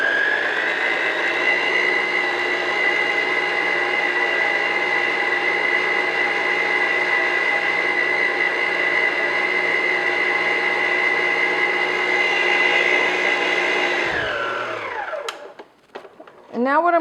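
Electric mixer beating egg yolks with pure vanilla extract for a classic pineapple upside-down cake, a steady close motor whir with a dense harmonic hum that holds evenly, then winds down and stops near the end.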